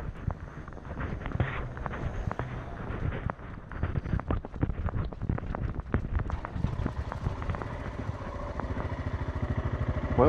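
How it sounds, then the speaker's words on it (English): Motorcycle being push-rolled and bump started: scuffing footsteps and clatter while it is pushed, then the engine catches and runs with a fast, steady putter toward the end, close and fairly loud. "Well done. You just bump started your motorcycle."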